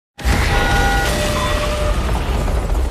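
A film explosion bursts in suddenly after a brief silence, then a loud, dense roar and rumble fills the rest of the moment.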